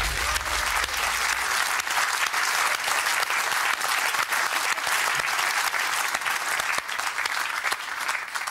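A Deal or No Deal studio audience clapping, a dense, sustained round of applause that holds steady and loud throughout.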